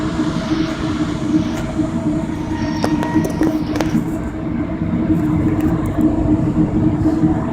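Amtrak passenger train rolling along the rails, a steady loud rumble with continuous low drone and brief faint squeals midway, heard from inside a car with no talking.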